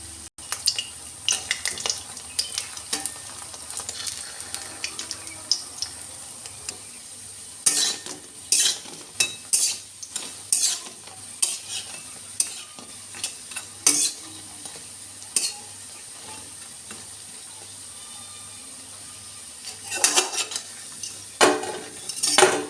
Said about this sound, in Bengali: ভেজে তুলে রেখে বাকি বড়াগুলোও দিয়ে দেব